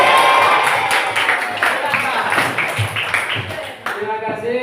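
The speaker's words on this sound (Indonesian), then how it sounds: "Tepuk tangan sekali lagi untuk Sena." A group of children applauds and cheers for a classmate named Sena, with dense clapping and excited shouting filling a room, loud and close, tapering off near the end.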